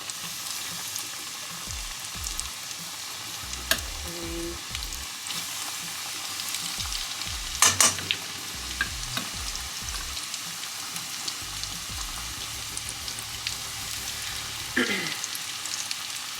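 Seasoned chicken pieces frying in a pot for sweet and sour chicken make a continuous close sizzle. Spoon knocks and stirring clatter come and go, with no talking.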